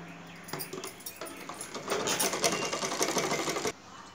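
A sewing machine stitching folded piping onto a blouse neck, short whirring bursts at first, then a steady continuous run that stops abruptly near the end.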